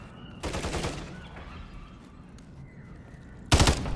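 Gunfire in the Call of Duty video game comes in two short, loud bursts of rapid shots, separated by a stretch of quieter ambience with faint distant sounds.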